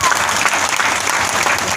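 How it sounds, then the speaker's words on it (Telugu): Loud, dense applause from an audience fills the moment steadily from start to finish, a continuous wash of many hands clapping together. "గట్టిగా క్లాప్స్ ఇవ్వచ్చు."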